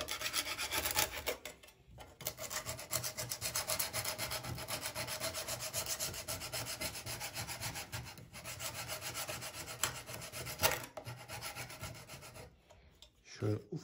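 A harsh, continuous abrasive rasp of a stone sanding disc scouring rust off a metal sickle, loud and close, running steadily with a brief pause early on and fading near the end.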